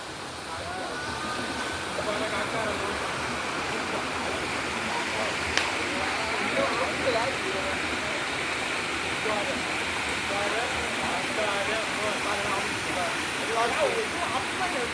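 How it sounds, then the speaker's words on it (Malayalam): A mountain stream at Kallar dam, on the way to Ponmudi, rushes over rocks in a steady, unbroken roar that fills the whole stretch, with a voice faintly heard beneath it at moments. "ഇതുമാതിരി ഒരു അരുവികളും നല്ല അന്തരീക്ഷം"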